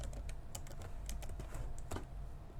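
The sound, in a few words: typing on a computer keyboard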